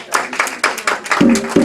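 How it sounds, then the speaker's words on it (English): Brief scattered clapping from an event audience honoring a Consul General and her staff, a few quick claps close by, with a short voiced sound near the end. "I want to applaud the Consul General and her staff."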